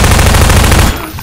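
Rapid loud gunfire in the video game Half-Life 2, fired at zombies, a dense burst of shots for most of a second before cutting off.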